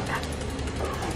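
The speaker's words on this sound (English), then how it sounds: "I feel like there's more dogs coming." Zombie dogs in the Resident Evil 2 Remake video game bark and whimper in a dense, continuous wash of game noise, with no pause between the calls.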